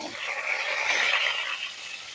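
Fish pieces frying in a pan over low gas for Bengali fish kalia give off a steady, close hiss of sizzling oil that holds even throughout, with no voices.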